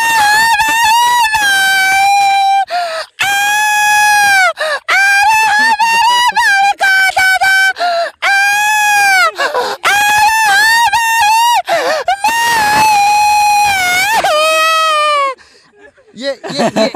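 A voice imitates village brides crying at their farewell, giving loud, high, wavering wails in long sobbing bursts with short breaks, close and continuous for most of the stretch.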